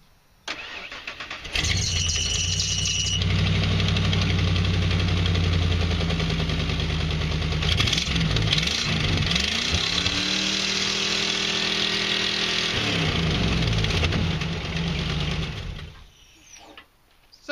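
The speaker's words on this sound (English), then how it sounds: "I'm going to kick over Big Baby on its regular battery, just so you can hear the difference" A 5.8 liter car engine cranks on its regular battery, catches and starts, then settles into a steady idle and shuts off, close and clear with no talking over it.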